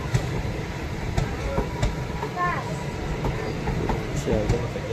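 Passenger train travelling through the hills between Silchar and Haflong toward Guwahati, a steady rumbling roll with faint clicks from the wheels, heard from inside the carriage with some talk in the background.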